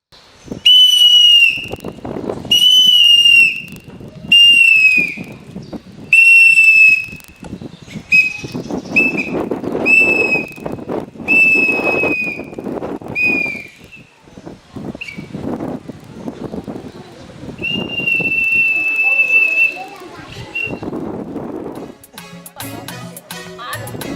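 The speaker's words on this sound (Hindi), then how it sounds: "जब तक हमारा सीटी बजेगा तब तक हमारा ड्यूटी चलेगा, इसलिए हमारा सीटी बजता रहेगा" A police officer blows a shrill whistle in a string of short sharp blasts, then a longer steady blow, loud and close over a busy, noisy background.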